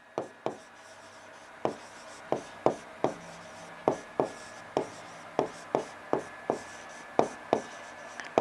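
Handwriting on paper with a pen, a series of sharp close taps and short strokes in an irregular rhythm, roughly a dozen distinct marks over several seconds, with no voice over it.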